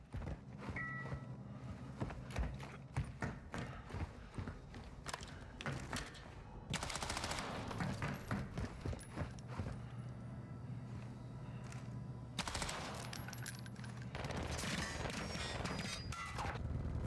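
Gunfire in the Call of Duty DMZ game mode, repeated sharp shots and bursts of automatic fire with heavier crashing impacts, some near and some farther off, spread across the stretch.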